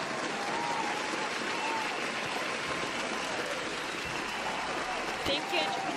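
A canned applause sound effect on a livestream gives a dense, even wash of clapping and crowd noise that holds steady for about six seconds, with a faint voice-like murmur beneath.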